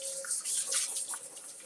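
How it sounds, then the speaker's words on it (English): Water running from a kitchen tap while food is rinsed, a steady soft hiss with faint splashing, quiet and close, no talking. "so let me just rinse this stuff out"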